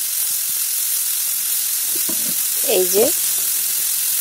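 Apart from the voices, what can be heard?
drumstick flowers and chopped tomato frying in a wok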